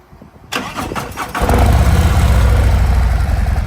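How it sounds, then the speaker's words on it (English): A car with its stock factory exhaust cranks and fires up about half a second in, then settles into a loud, steady, deep idle close by, with no talk over it. "That's stock factory exhaust. It's still loud."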